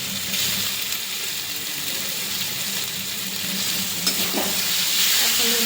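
Chicken sizzling with ginger and garlic paste in a pan, a steady loud frying hiss with occasional stirring scrapes and pops throughout.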